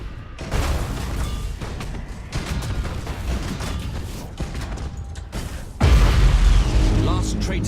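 Spaceship explosion in the space battle game Battlefleet Gothic Armada 2: loud, rumbling booms and bursts fill the scene, with a heavy deep blast near the end, while voices talk over the battle.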